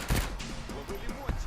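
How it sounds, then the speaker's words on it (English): A booming explosion in a multiplayer shooter game set in the Ukraine war, a heavy blast followed by a lingering rumble and a second thud, with a voice speaking faintly underneath. "Like that explosion."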